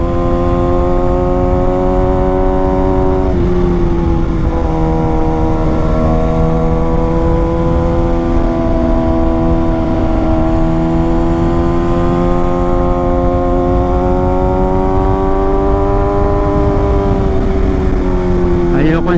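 A Kawasaki ZX6R motorcycle cruising a mountain road on fresh Battlax S23 tyres, its engine a loud steady drone with rising and falling pitch as the rider shifts, under constant wind rush.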